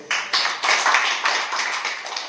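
An audience at a university lecture on saju at Dongguk University claps with a lively patter of hands. The claps come in a few uneven surges and sound fairly close, with no talking over them.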